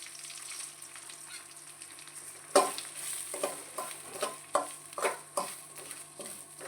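Semolina (rava) is roasted on a low flame while a spoon stirs it around the pan, giving soft dry scraping strokes and irregular clicks against the metal over a faint steady hiss, with no voices.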